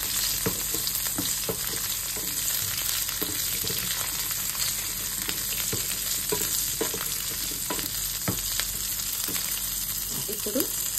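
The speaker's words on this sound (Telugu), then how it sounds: "సో ముందుగా వీటిని కొద్దిగా ఫ్రై చేసుకోవాలి." Ingredients for a South Indian tomato chutney fry in a pan, with a constant close sizzle and scattered sharp clicks and scrapes from stirring.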